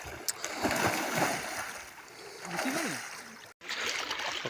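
Water splashes and trickles as people bathe in a river, soft irregular sloshes close by with a faint murmur of voices underneath and one brief dropout near the end.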